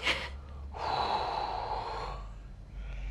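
A collapsed man gasps for breath: a sharp intake, then a long, strained, rasping inhale or exhale held for over a second, close and fairly loud, followed by quieter breathing.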